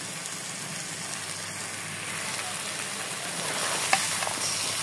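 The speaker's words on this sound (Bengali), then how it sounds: "সামান্য চিনি দিয়ে খুব ভালো মতো আবার একসাথে নাড়িয়ে নিতে হবে।" Jackfruit curry with a little sugar being stirred in a pan for a vegetarian Bengali dish, giving a steady, soft sizzle and frying hiss throughout, with faint scraping and a small clink near the end.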